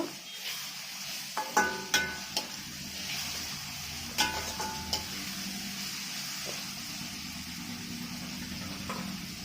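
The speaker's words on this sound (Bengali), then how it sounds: "রসুনটা দিয়ে আবার একটু ভেজে নেব।" Garlic frying with mutton in a pan for a spicy mutton kosha: a continuous soft sizzle with scattered stirring clicks and scrapes, steady and close, no talking.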